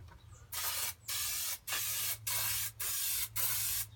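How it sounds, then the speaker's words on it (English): An aerosol can of spray glue, its worn nozzle giving an uneven pattern, is used during a car restoration. It hisses loudly in six even bursts separated by short pauses. "So we're going to spray both sides."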